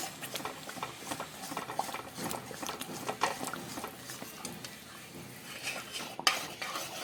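A spoon stirs thick halwa in a pan, making soft irregular scraping and gentle sticky patter, with a faint sizzle and one sharper knock near the end, quiet and close with no talking.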